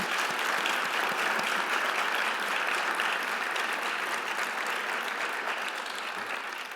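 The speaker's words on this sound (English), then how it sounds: "So if I could just do a round of applause for all of our colleagues." A gala crowd at a global engagement awards dinner applauds colleagues, with a thick, sustained wash of clapping from many hands that holds steady throughout and fades only slightly near the end.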